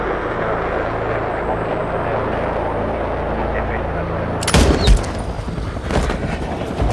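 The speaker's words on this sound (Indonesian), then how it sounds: "tiba-tiba seorang penembak misterius menembaknya hingga roboh" Gunfire erupts in a film scene as a mysterious shooter guns down a man about to board a plane: a sudden loud blast cuts through a rumbling background, followed by a few more sharp cracks.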